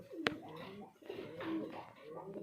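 Caged pigeons at a bird farm give faint, soft low cooing with a sharp click near the start in a quiet room.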